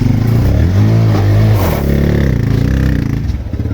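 A motorbike engine revs loudly and close as it climbs a newly built ramp, with a throaty, pulsing drone that rises and settles, accompanied by clattering.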